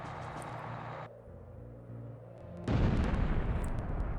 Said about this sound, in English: That was kind of a lackluster explosion after the sweet helicopter explosion